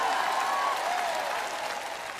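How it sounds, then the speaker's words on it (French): A congregation applauds during a French-language sermon, steady, dense clapping from a large crowd that fills the room and tapers slightly toward the end, with a faint tonal hum beneath it. "Vous feriez aussi bien d'applaudir et de crier."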